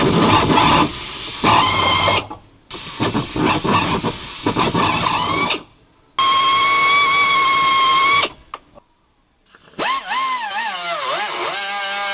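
A power drill whines in bursts, drilling out metal in the floor section of a late-model GM pickup, stopping and restarting several times with a high screeching tone that wavers as it slows near the end.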